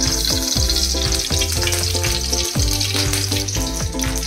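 Oil sizzles and fries loudly in a kadai while masala rice is prepared, with steady crackling and repeated stirring scrapes running throughout.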